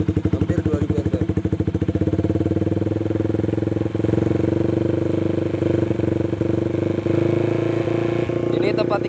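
A Honda CB200R motorcycle engine runs steadily near 3000 RPM, a loud, continuous close-up drone with a regular firing pulse throughout, while a person talks over it.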